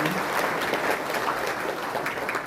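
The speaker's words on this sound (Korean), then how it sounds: "많은 박수 부탁드립니다" An audience at a provincial council public briefing gives dense, continuous applause, a loud steady wash of many hands clapping together.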